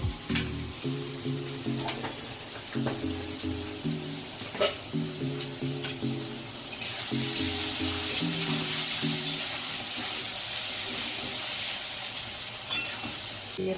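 Fish fries in oil in a pan with a steady, close sizzle that swells louder midway, over a low repeating musical backing.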